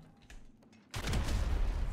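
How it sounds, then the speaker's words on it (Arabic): A sticky bomb detonates in GTA V, a sudden loud blast that cuts in after a quieter moment and rolls on as a sustained roar of debris and noise. "سأحاول تفجيرها بالستيكي بومب"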